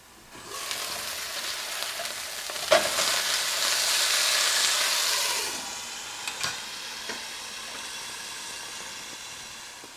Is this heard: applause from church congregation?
no